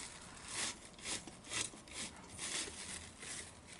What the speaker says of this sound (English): And then you're going to go ahead and wipe it.